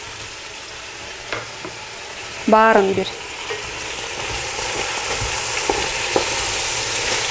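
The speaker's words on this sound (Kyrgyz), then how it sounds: "Помидорду салып, муну дагы аябай кызарта кууруп алабыз" Chopped tomatoes fry in a pan with onions and meat, giving a steady sizzling hiss that grows stronger toward the end; a voice briefly speaks over it.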